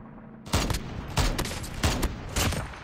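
Gunfire in Call of Duty Mobile during a clan war sniper match, four loud bursts of automatic shots spaced evenly, close and sharp.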